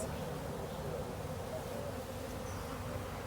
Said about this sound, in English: we got some bees going on their orientation flight